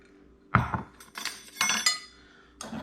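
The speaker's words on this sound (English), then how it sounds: "So slightly more ratio of salt to sugar, and we're just going to mix those together." Salt and sugar being mixed together for curing egg yolks, with a few close, sharp clinks and scrapes of a utensil against a dish in short separate bursts.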